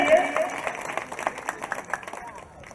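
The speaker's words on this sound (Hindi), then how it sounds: "एक बार जोरदार तालियां बजा दीजिए अपने प्रधान के लिए" Applause from a crowd at a Durga Puja jagran in a village near Prayagraj, a dense patter of clapping that gradually thins out, with some voices mixed in.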